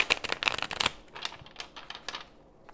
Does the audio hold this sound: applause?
no